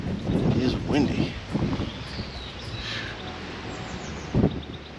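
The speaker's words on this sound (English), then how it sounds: "It is windy." Wind gusts and buffets outdoors on a bright, blustery day in the UK, a steady rushing noise at close range beneath a man's speech.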